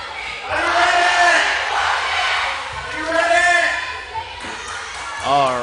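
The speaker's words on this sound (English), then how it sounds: "Crowd's hype tonight." Crowd at a youth camp basketball game cheering and yelling, loud overlapping voices and whoops that swell and fade in waves with a few shouted calls.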